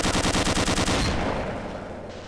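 Shotgun fire in the video game Gunman Chronicles: a quick run of about nine loud, evenly spaced blasts in the first second, then a rumbling tail that slowly fades.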